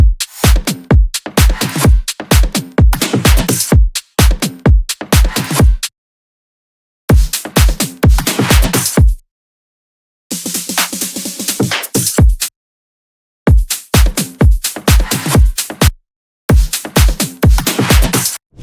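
Bass house drum loop with a punchy kick, clap, hi-hats and sliced percussion, playing loud in tight repeating bars broken by short gaps, with one brief section of denser, noisier texture.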